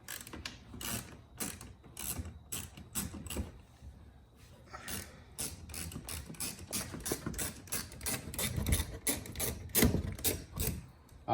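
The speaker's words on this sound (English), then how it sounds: "Now we have 1, 2, 3, 4 7mm bolts that you have to remove" A hand ratchet removes 7mm bumper bolts on a Ford Explorer ST, giving rapid bursts of close, sharp clicking strokes with short pauses between runs, loud and alone without talk.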